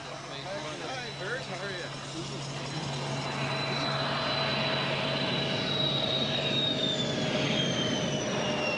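A CF-18 fighter jet with the Canadian Forces' 1 CAG at Baden and Lahr in the Black Forest, 1986, its engine roar steadily building and sustained, with a faint tonal whine drifting across.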